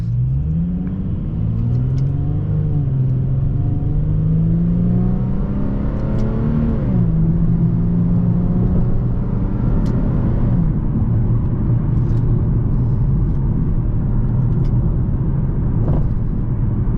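An Infiniti G35/G37 driven in manual mode, its engine climbing in pitch, dropping with a gear shift and pulling again, a loud steady in-car drone with no talk.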